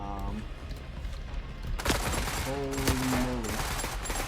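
Gunfire in the video game The Forever Winter, a dense, loud burst of rapid shots starting midway and continuing under a man's startled exclamation.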